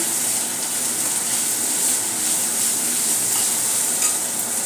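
Finely chopped cabbage stir-fried for Schezwan fried rice, a loud continuous sizzle with steady stirring scrapes up close, no voices over it.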